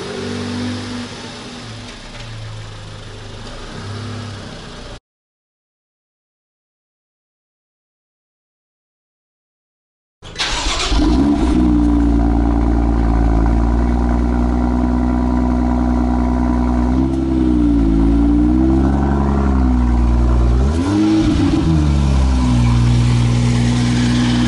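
A hot hatch is started up after a brief silence and then runs loudly close by, its engine revving and changing pitch as the car is moved around.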